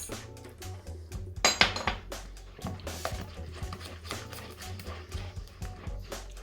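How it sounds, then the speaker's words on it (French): Egg is mixed into chocolate brownie batter in a bowl, with irregular soft thuds, clinks and wet slapping strokes close by, fairly quiet and without talking. "J'ajoute un premier œuf et je mélange"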